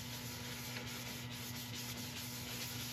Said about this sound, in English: I'm going to put a cellulose sanding sealer over the top of this. We'll buff it in